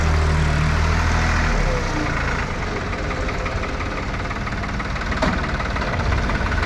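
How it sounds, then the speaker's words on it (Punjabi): A 5500 tractor engine idles steadily nearby during soil removal at a gurdwara, a loud, continuous low rumble with a knocking throb and no pauses. "ਆ ਟਰੈਕਟਰ ਆ 5500"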